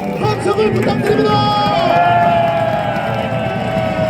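A crowd at a Korean presidential election rally in Hongseong cheers and applauds loudly, shouts and whistles rising over a dense roar of clapping and babble.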